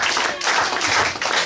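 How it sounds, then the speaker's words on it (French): A church congregation at a Sunday service bursts into sustained applause, dense clapping from many hands that fills the room loudly and evenly throughout the short stretch. "Et applaudissez pour la gloire de Dieu pour le docteur."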